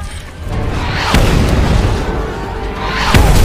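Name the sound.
bomb explosions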